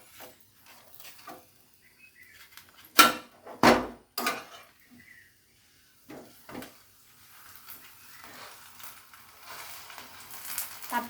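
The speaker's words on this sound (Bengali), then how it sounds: "তারপর এভাবে চেপে চেপে ভেজে নেব" A paratha fries in soybean oil in a pan while being pressed down, giving a few sharp clunks and scrapes of utensil on pan, then a quiet, soft sizzle and light scraping.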